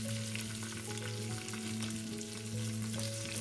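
Green chillies, curry leaves and asafoetida are tossed into hot oil for a carrot ozhichu curry, making a short, dense, even sizzle. The sound is close and steady, with no speech over it.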